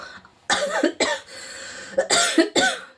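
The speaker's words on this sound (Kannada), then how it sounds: "ನಾವೊಂದು ಕೆಮ್ಮಿದ್ರೂ ನಿಮಗೆ ಡಿಸ್ಟರ್ಬ್ ಆಗಿದೆ ಅಂತ ಸಾರಿ ಕೇಳ್ತೀವಿ" A person coughs in several sharp, forceful bursts, in two clusters with a quiet gap between them, close and loud with no talking.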